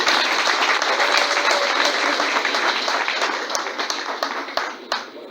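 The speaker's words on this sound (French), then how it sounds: "Je voudrais donc que nous puissions l'applaudir pour les différentes personnes." A crowded hall applauds in honour of the president, dense sustained clapping that gradually thins into scattered individual claps near the end.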